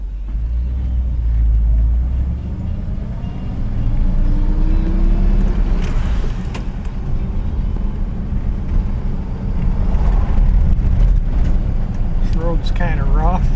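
A 1959 Chevrolet Bel Air driving over a rough road, recorded from inside the car. A steady low engine and road rumble carries throughout, with occasional rattles and bumps.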